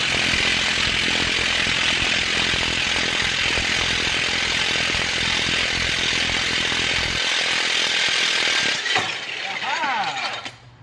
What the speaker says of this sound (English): That's how you remove your damn crank pulley